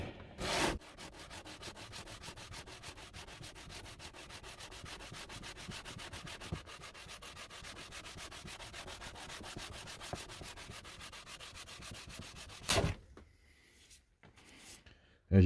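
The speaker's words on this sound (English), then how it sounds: "So I'm just going to sand that down and hopefully get a good finish on it." Steady back-and-forth sanding strokes rub across the wooden base of an antique coffin plane. The close rasping continues for about thirteen seconds, then stops, leaving quieter knocks and handling noises.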